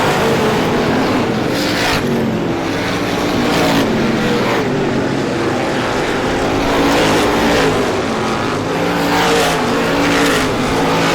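Race cars roar past on an oval track during the 51st Star Classic, a loud continuous engine drone that swells and fades as the pack passes, with no clear talk.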